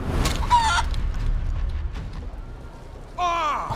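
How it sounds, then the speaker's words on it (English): Chickens in the video game Divinity: Original Sin 2 cluck and squawk loudly in two bursts, one at the start and one at the end, with a quieter stretch between. "Chicken."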